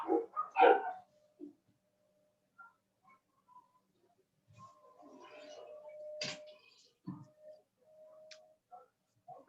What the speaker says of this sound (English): I've got the dogs moaning and fighting